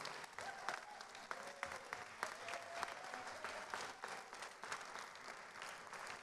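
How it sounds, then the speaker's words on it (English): Audience applause at an architecture biennale awards ceremony: steady, dense clapping from a large crowd with scattered sharp claps and faint voices beneath. "Please give a very, very big round of applause"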